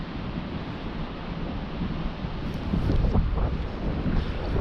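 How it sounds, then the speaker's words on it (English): Strong wind gusting across open ground near wind turbines in Dumfries and Galloway, a steady loud rushing roar with heavy buffeting against the microphone, building slightly toward the end. "It's definitely very windy."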